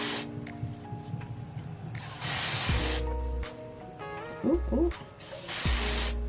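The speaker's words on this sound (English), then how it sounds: "And just spray the whole thing" Several short hissing bursts of hair spray sprayed onto a wig, separated by pauses, with a person making brief exclamations between them.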